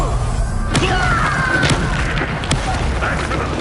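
A Confringo fire spell explodes in the Hogwarts Legacy video game, with a loud boom and crashing impacts over constant game noise, followed by a few sharp hits, while someone seems to talk underneath.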